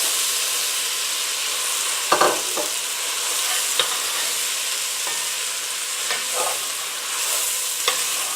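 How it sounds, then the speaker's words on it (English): Rice stirred into mushrooms, oil and bacon grease in a pan for bacon mushroom risotto gives a steady loud sizzle, broken by a few soft scrapes and knocks of the spoon. "we're just going to stir this around so that the rice gets completely coated with the oil"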